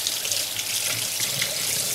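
Running tap water rinsing an anodising part, a steady, loud splashing stream into a sink that continues without pause, with no voices.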